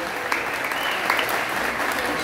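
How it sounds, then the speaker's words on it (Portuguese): An audience at a comedy show claps in sustained, even applause, a dense patter of hands that stays steady for the whole stretch. "Vamos aplaudir, gente, o Acre!"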